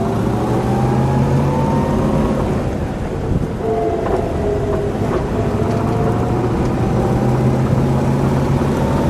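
A white 1958 Chevrolet Corvette with a 283 cubic-inch V8 and four-speed gearbox cruises along, its engine droning steadily under continuous road rumble, heard close and loud throughout.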